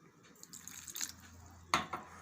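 Water is poured into a bajra flour and semolina batter for dhokla, giving a quiet trickle and a brief splashing burst near the end.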